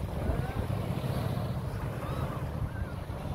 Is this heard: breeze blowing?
yes